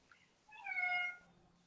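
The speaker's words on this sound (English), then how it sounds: "It's Brad and Emily's cat" A house cat gives a single clear meow lasting under a second, fairly close and soft, in an otherwise quiet room.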